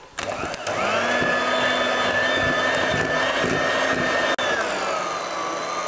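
A hand mixer whisks a Maltese sweet mixture in a pan, giving a steady, loud motor whine with a constant pitch and a few faint scraping knocks. No one speaks.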